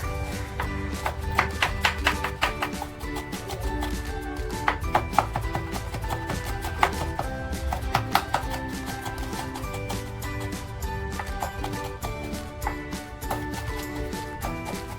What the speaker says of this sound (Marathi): टॅमॅटो सुद्धा बारीक कापून घेते अगोदर